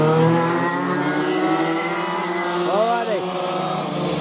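Racing cars on a formation lap for a Restricted Light heat, a steady loud engine drone with layered harmonic tones and a brief pitch sweep as a car passes close, continuous throughout under faint commentary.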